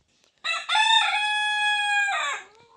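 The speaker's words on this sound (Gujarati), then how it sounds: "જો આ કુકડી છે." A single rooster crows loudly and close, one long drawn-out call lasting about two seconds, with no other sounds around it.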